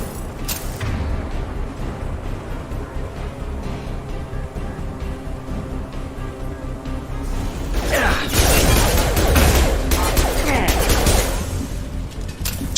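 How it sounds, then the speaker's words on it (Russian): Gunfire in the video game Mass Effect 2, a steady stream of weapon noise and mechanical clatter throughout, swelling into louder, denser bursts of shots and impacts in the second half. "Еще не вышел, но уже по нам стреляет."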